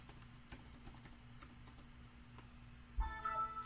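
Typing on a computer keyboard during a Windows login: a run of soft, quick key clicks at low level, followed by a brief electronic chime at the end.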